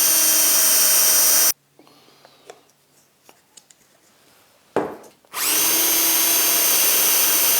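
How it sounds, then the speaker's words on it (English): A power drill bores holes in a wooden piece for a box that holds a UJK Parf guide system, loud steady whirring for about 1.5 seconds, then a quiet gap with small taps, and a short burst before the drilling resumes at full volume. "I can now use this here to drill holes in this piece"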